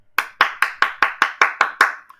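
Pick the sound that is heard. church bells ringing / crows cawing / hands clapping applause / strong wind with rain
hands clapping applause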